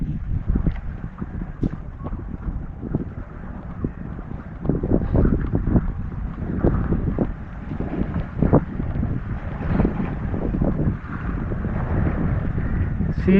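A small boat's engine drones steadily on open water, with gusts of wind buffeting the microphone throughout.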